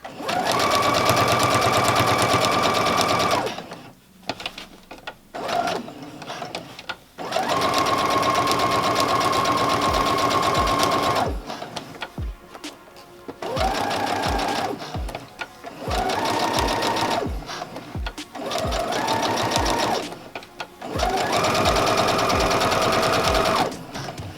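A sewing machine stitching a cloth pad runs in several long steady bursts of rapid needle hum, broken by pauses with handling clicks and short stop-start runs, close and loud.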